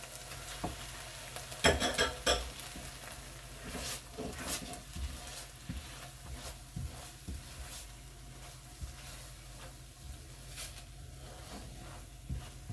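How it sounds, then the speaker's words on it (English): Soya mince and onions sizzle in a pan after stock is added, a low continuous fry under repeated scraping and stirring clatter from a utensil against the pan, with a cluster of sharper knocks early on. "See that sizzling away straight away."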